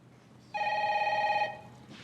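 One burst of a telephone ringing, loud and close, lasting about a second before it stops, with a quiet room around it.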